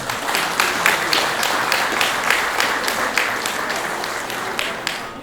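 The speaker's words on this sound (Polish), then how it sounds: "Tak, brawa teraz" Applause fills a conference awards ceremony in Białystok, a steady dense crowd clapping with rhythmic accents throughout, close and loud.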